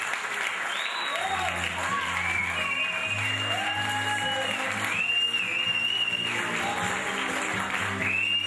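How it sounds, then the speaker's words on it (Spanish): Audience applause fills a band contest award ceremony as a first prize is announced, a steady dense clapping crowd sustained throughout, with a voice talking over it via amplified sound. "Fuerte el aplauso."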